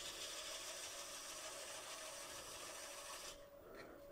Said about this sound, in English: We're going to sand the inside by hand, start with 120 at a slower speed.